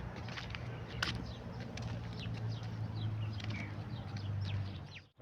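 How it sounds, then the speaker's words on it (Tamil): Sparrows chirp in short, bright calls scattered over a low outdoor rumble in a vegetable garden in Medina, Saudi Arabia, moderately distant and fairly faint. "குருவி கத்துற சதத்தை கேளுங்க அப்படியே"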